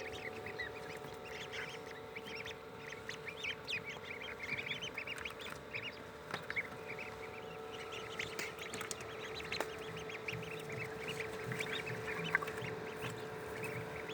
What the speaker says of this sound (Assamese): আৰু আজি মোৰ হাঁহৰ পোৱালি ওলাইছে